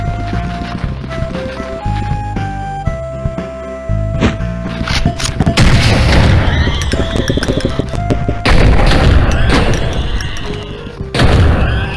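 Weapons loaded with explosive ammo in the video game Blood and Bacon, heavy booming blasts and gunfire bursts that grow dense and loud over a background of game music and tones.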